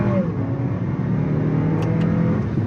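A 2023 Lexus NX 350 F Sport with a turbo engine accelerates hard from inside the cabin, a steady loud engine drone and road roar with no talking.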